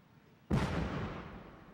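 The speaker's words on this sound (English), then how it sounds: "Gasoline bombs will be exploded on top of a 70 by 70 foot blue screen as the camera is rolling" Gasoline bombs are detonated above a 70 by 70 foot blue screen as a movie effect. After a moment of near quiet, a single sudden, loud boom erupts and rolls off into a long, fading rumble.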